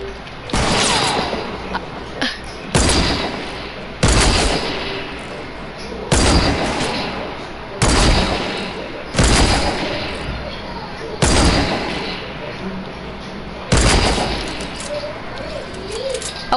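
Loud gunshots fired in a video game, about seven sharp blasts spaced every two seconds or so, each with a decaying tail, while a player talks between them.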